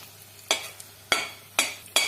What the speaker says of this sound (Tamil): இதுக்கு அடுத்துதான் மிளகா வத்தல் சேர்த்துக்கலாம் இதையும் நல்லா வறுத்துடலாம்